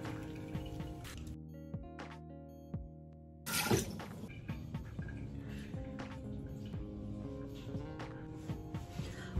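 Water splashing and dripping while a face is washed with foaming cleanser, with irregular wet splashes and trickles over a steady droning tone in the background.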